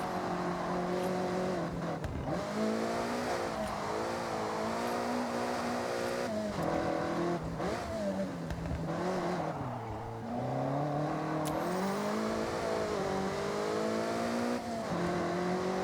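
A Toyota AE86 in Forza Horizon 6 with its engine held at high revs under sustained acceleration, a steady loud tone that keeps rising and dipping through gear changes and throttle lifts, with no talk over it.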